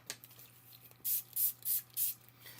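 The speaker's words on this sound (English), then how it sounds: "Spray with your water, guys." A spray bottle mists water onto polymer clay, four short, sharp hissing bursts in a quick even rhythm after a quiet moment with faint handling noises.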